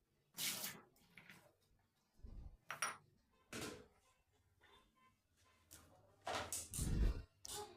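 Water splashing as soybean chunks are rinsed and squeezed in a bowl, in several quiet separate bursts with short pauses between them, recorded close and fairly faint.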